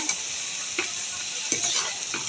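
Beef browning in a little hot oil with ginger and garlic, a steady close sizzle with a few scraping stirs, no voices.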